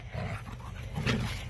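Two dogs vocalizing while they play, a puppy-like mix of low grumbles, huffs and panting that runs through the whole stretch, up close and fairly steady with a slightly louder burst near the end.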